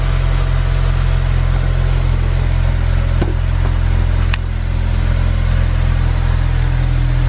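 A Honda S2000 fitted with a Clutch Masters FX300 clutch idles steadily with its engine left running, a loud, even, close drone with a faint click partway through and no talk.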